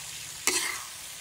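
A short sizzling burst as egg is stirred in a hot frying pan, a quick close scrape and hiss that trails off into quiet.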